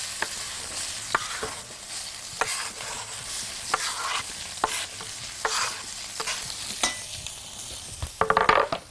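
Sliced onions frying in a pan, a continuous close sizzle with regular utensil taps and stirring scrapes, ending in a cluster of sharper clinks.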